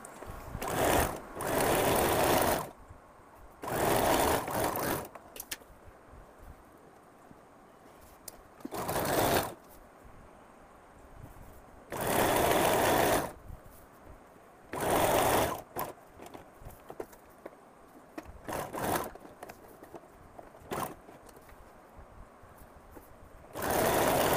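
A sewing machine stitches the lining of a kurti in repeated bursts of fast, buzzing mechanical rattle lasting a second or two each, separated by quiet pauses, fairly close and alone.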